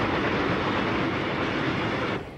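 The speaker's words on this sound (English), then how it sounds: "Do you have to ride on this kind of train every day?" Japanese commuter train in a Tokyo-bound ride from an animated Mega Man story, a steady loud rumble of rolling wagons and rail noise that holds evenly, then drops away near the end.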